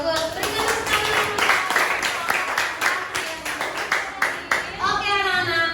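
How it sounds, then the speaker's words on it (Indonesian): Children clapping together in a classroom, a quick rhythmic run of claps with young voices chanting along, steady and close. "Berikan tepuk tangan."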